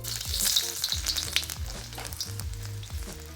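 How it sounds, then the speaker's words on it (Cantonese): Ginger and garlic sizzle steadily in a hot wok over low heat, with a bright continuous frying hiss and occasional stirring clatter, close and clear with no talking. "We'll start by cooking our ginger and garlic for about 20 to 30 seconds with the heat set to low or completely off to prevent it from burning."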